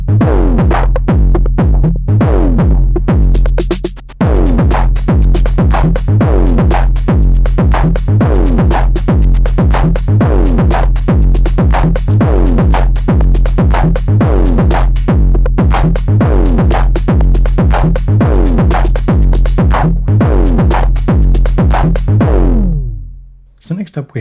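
A synthesizer fed through an overdrive pedal at mid setting with a bit of drive and maximum level, a loud distorted pattern of punchy repeated notes and kick-like thumps that runs steadily, then cuts off and fades near the end.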